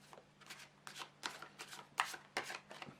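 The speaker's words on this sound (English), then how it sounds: "So I'm just going to shuffle the cards" A deck of tarot cards is shuffled by hand, giving a quick run of about ten crisp, close riffling snaps and slaps over a quiet room hum, with no talking.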